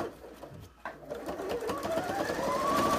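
Computerized 100-stitch sewing machine, a Canadian maple-leaf edition, running steadily with a rising whir that grows louder toward the end, heard close and alone.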